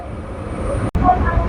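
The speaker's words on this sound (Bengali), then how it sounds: "দেখতে দেখতে ট্রেন একদম পৌঁছে গেল দিবাদিবাগ স্টেশনে" A local train runs on the Sealdah to BBD Bag line in Kolkata, giving a steady close rumble of wheels and carriage with one brief dropout partway through.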